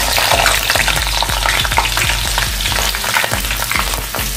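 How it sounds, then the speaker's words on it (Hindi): Five halved green chilies frying in hot oil for vada pav, a loud, continuous sizzle with occasional stirring clinks, close and without talking. "ये 5 हरी मिर्चियां हैं, इसको मैंने बीच से कट कर लिया है। इसको हम फ्राई करेंगे"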